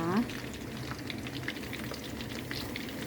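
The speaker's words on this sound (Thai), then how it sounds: "สุกแล้ววันนี้ทอดสองกิโลนะคะ" Fish sticks frying in oil in a pan, a steady dense crackle and sizzle throughout, moderately loud and close.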